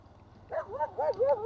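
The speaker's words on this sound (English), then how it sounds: "That's that same dog that done it last time." A dog near a campground day-use area on a military base in Arizona lets out a short run of yips and whining barks, fairly faint over low engine rumble.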